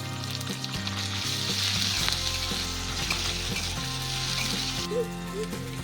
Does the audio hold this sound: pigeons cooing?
no